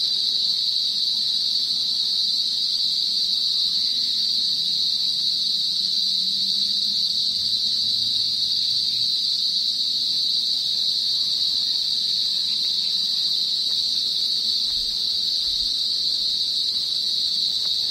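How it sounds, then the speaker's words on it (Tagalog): Crickets chirp in a steady, high, continuous drone at a hillside picnic area near a grotto shrine in the Philippines as evening falls, loud and unbroken for the whole stretch. "puro kuliglig na po yung maririnig dito"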